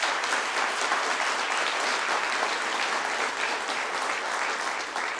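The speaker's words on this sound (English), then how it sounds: "I want to give them all a round of applause." Sustained applause from an audience at a mayor's news conference, honoring city employees; steady dense clapping fills the whole stretch at even loudness.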